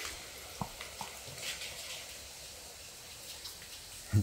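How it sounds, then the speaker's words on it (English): Light rain falls outdoors in subtropical Queensland, Australia, a soft steady patter of scattered drops with a few louder taps on a nearby surface. "Here it comes, raining again, just on and off"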